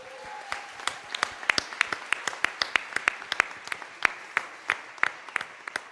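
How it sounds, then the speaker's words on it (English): A small group claps steadily, sharp individual claps ringing out in a loose, sustained round of applause. "A big round of applause for our visual note taker"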